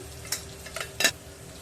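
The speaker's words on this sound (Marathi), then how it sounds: "फोडणी व्यवस्थित परतून घ्यायची आहे मसाले अजिबात करपून द्यायचे नाही" Turmeric and masala tempering sautéed in a pan over low heat, soft sizzle under a few brief scraping stir strokes, quiet and close.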